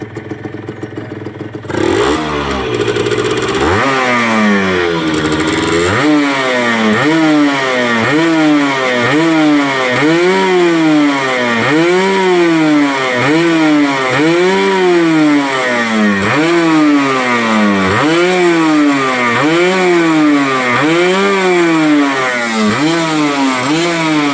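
A Honda NSR150 SP motorcycle engine starts up and then runs steadily with a rhythmic, pulsing throb, loud and close, with no voices.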